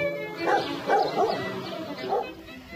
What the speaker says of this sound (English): Bucharest has had a stray dogs problem for years.